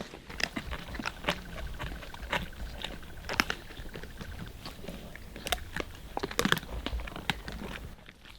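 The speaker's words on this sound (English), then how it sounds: "You can hear the crunching of the bones in the background." Faint, irregular crunching and cracking as lions chew impala bones recur throughout against a soft background hiss with occasional sharper snaps.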